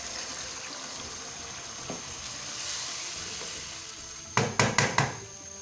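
A pan of chicken liver karahi sizzles steadily with a soft frying hiss, then a few sharp spattering bursts and bubbling as yogurt and water hit the hot gravy.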